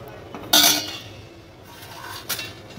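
Dishes and cutlery clink while lunch is served in a Bengali home kitchen, two sharp metallic clatters a couple of seconds apart over a quiet room.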